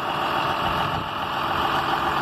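The engine of a John Deere 6920S AutoPower tractor with about 7,449 working hours runs steadily and close by, a loud, even drone with no talking.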